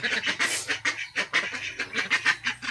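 Several farm ducks quacking in quick, rhythmic bursts, close by and fairly loud.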